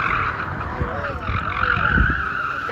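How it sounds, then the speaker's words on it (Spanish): Car drifting at an open practice lot, tires skidding and squealing in a sustained screech with engine noise underneath, fairly close and loud throughout. "este lugar es abierto, cualquiera puede venir con su auto y driftear"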